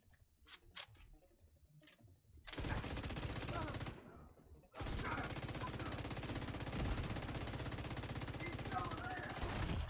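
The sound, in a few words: LMG machine gun fire from video game The Division 2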